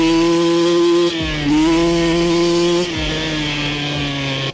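Thunderwasp XR16 engine roaring loud and close as it accelerates hard from a race start, a steady high revving drone with sharp gear-change dips around one and three seconds.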